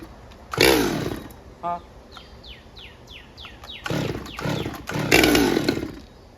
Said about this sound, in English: hopefully this will crank on the 5th pull from a dry carburetor